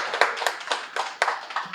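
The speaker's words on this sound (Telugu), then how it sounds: "ఒకసారి గట్టిగా చప్పట్లు కొడదాం" An audience at a pyramid anniversary gathering claps in a quick, uneven burst of sharp hand claps, fairly close and moderately loud, with no voices over them.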